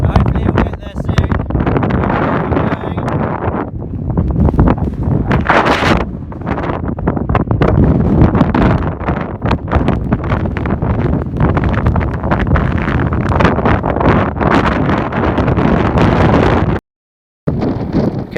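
Strong, cold wind buffets the microphone outdoors on open downs during a long walk, a loud continuous roar with gusting surges, and a brief dropout near the end.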